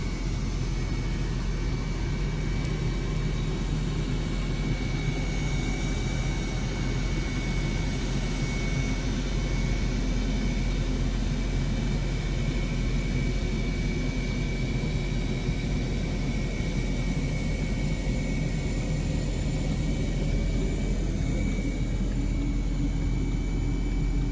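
A NASA ER-2 high-altitude jet aircraft's engine produces a steady, loud, continuous roar with deep rumble, unbroken and without talk throughout.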